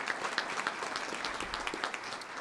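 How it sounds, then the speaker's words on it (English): Audience applause for town council members at a lifetime service and volunteer recognition event, a steady dense patter of many hands clapping throughout, moderately distant. "Let's give these folks a round of applause."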